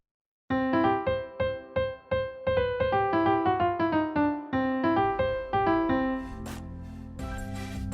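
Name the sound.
melody with a large range of about an octave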